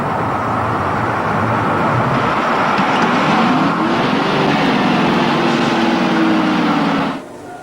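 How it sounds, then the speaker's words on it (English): A road vehicle's engine drones steadily and loudly under engine braking, its pitch shifting through downchanges with a sweeping harmonic line midway, before the sound cuts away near the end. "There's a great deal to be said for using the engine as a brake."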